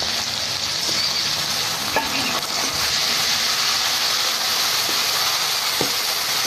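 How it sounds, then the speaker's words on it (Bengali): Ginger, garlic and cumin paste fries in hot oil with a steady, loud broadband sizzle, broken by a few faint clicks of a spoon against the pan, with no talking. "মশলাটা বেশ ভালোভাবে কষিয়ে নেব।"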